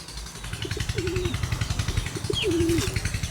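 Several birds calling in short bursts against a steady, rhythmic engine-like rumble, with brief chirps and coo-like notes rising above the hum.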